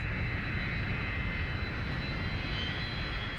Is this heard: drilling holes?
no